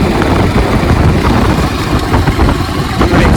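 A BMW G310RR single-cylinder motorcycle runs along in sixth gear, its engine a steady, loud, low drone blended with wind noise, with no break in the sound.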